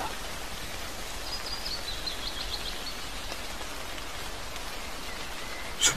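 A steady patter of rain soaks a Finnish forest beside a small cabin, a soft, even hiss of drops on leaves and ground. One brief louder tap or rustle comes near the end.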